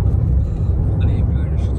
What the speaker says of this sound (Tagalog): So, we are in a taxi ride.